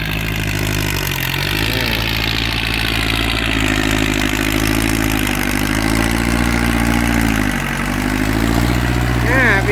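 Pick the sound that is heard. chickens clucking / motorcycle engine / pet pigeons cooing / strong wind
motorcycle engine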